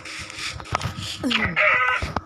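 A chicken in a survival video game gives a few quick clucks and squawks, close and fairly loud, mixed in among a person talking over the game.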